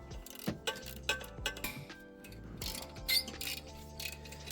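Ratchet wrench working a 13 mm bolt on the turbo of a VW Golf 7 1.4 TSI, giving a series of close, uneven mechanical clicks and metallic clinks alone, with no talk.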